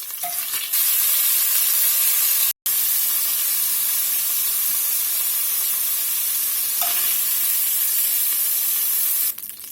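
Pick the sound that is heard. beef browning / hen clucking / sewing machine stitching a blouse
beef browning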